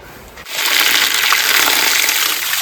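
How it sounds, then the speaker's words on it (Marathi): Borewell water gushing out at a village garden in Raigad, a loud rushing splash that starts abruptly after a brief quiet moment and then pours steadily and close by. "हे बघा प्युअर शुद्ध पाणी बोरिंगचं"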